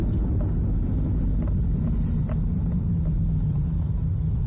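A Mazda 626 accelerates under cruise control, heard from inside the cabin as a steady, loud low engine and road rumble that stays constant throughout.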